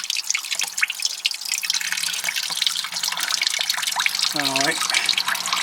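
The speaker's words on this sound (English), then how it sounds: "you can see where the water's coming out" Water dripping and trickling from a Jaguar XF saloon windscreen washer pump that has been removed, a steady close wet patter under a man's brief speech.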